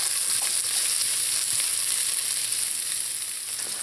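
Onion and hot peppers frying in a pan while being stirred, a loud steady hissing sizzle with faint scraping from the stirring, no voices.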